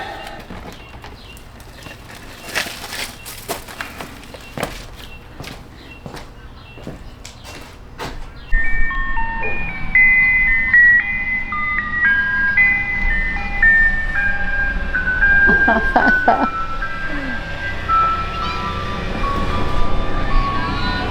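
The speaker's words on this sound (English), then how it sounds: "Oh, look at all the kids running in because they hear the ice cream truck." An ice cream truck's tinkling melodic jingle starts partway through and keeps playing loud and near, after a stretch of quieter clattering and thumps.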